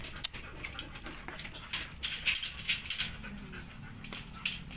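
Dogs pant rapidly and whimper in short bursts, close by, with scattered yips over a soft background.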